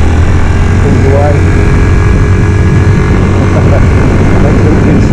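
A Znen 125 TE motorcycle engine pulls away on a test ride, a loud continuous low drone with strong wind rumble throughout, steady in level without clear revving peaks.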